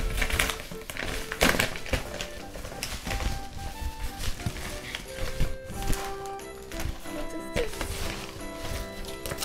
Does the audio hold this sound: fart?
no